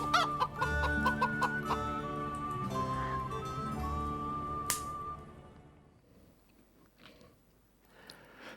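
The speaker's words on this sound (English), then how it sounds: "Chickens." Chickens clucking and a rooster calling close by, a busy cluster of overlapping cackles and clucks that thins out toward the end.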